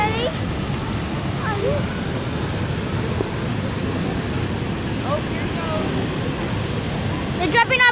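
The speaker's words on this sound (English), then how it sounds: "They're jumping off a waterfall." Steady, loud broadband rush of a waterfall that people are jumping off, filling the whole stretch, with voices talking over it now and then.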